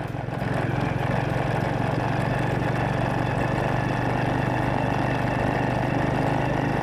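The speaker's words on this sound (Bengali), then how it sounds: "আসলে আমি বাইক চালিয়ে যাচ্ছি" Motorcycle engine drones steadily while riding along a road near railway construction between Chittagong and Cox's Bazar, a loud continuous low hum with wind noise, close and unbroken, no voices.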